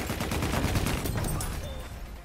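Rapid gunfire from many directions fills a Battlefield 1 video game battle, dense overlapping shots and bursts that stay loud and close, then ease off near the end.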